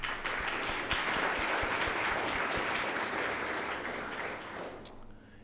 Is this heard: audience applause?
yes